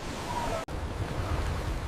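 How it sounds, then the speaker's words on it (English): Wind and ocean waves on an icy island make a broad, steady wash of noise with a brief dropout partway through, then the surf-like roar resumes. "Only the sound of the wind and waves filled the void of our terror."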